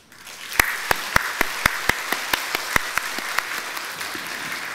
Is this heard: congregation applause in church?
yes